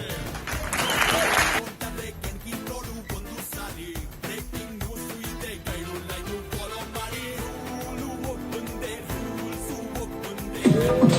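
An audience at a team celebration event in Karnataka claps in a short, loud burst at the start, then the hall carries on with voices and music-like tones, with another brief swell at the very end.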